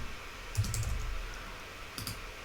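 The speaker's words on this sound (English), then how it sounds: "So I just type in the pages I've created, the names" Quiet computer keyboard typing, a few soft close key clicks in two short bursts over low room hum.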